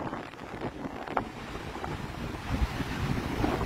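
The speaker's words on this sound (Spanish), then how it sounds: "El mar está un poquito fuerte" Strong ocean waves and a gusty sea breeze at Luquillo beach, Puerto Rico, with surf washing in and wind buffeting the microphone in a steady roar, and no one talking.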